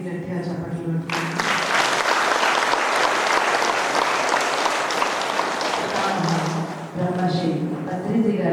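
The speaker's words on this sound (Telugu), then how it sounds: "మన పిరమిడ్కి గట్టిగా చప్పట్లు పెట్టుకుంటాం." An audience at the 4th anniversary celebration of PSSM in Navanathapuram, Armoor, breaks into loud, sustained clapping for several seconds, with a person speaking just before and after it.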